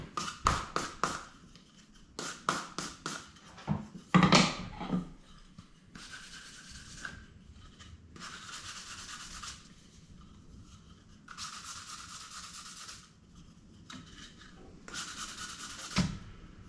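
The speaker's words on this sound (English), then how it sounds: "I'm going to break these sharp edges, 400 grit." Fine 400-grit sandpaper breaks sharp edges in short, dry rubbing strokes, first quick bursts and then longer passes, close and fairly quiet, with a few taps between them.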